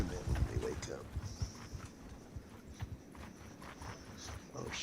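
Horses clip-clop along in the video game Mount and Blade Bannerlord, a quiet, uneven run of hoofbeats with a faint whinny over background ambience.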